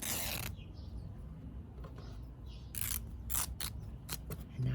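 Scissors cut through a base fabric, giving several crisp snips and creaky blade strokes spaced across the moment, close and fairly quiet, with no one talking.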